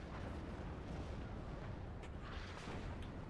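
Artillery fire in the wartime strategy game WARNO, a dense, rumbling roar of distant booms and blasts rolling continuously, with a few sharper bursts near the end.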